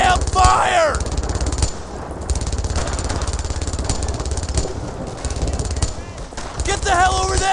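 Rapid bursts of gunfire and machine-gun chatter fill a firefight in the video game Brothers in Arms: Earned in Blood. The shooting is loud and nearly continuous, with shouted voices mixed in.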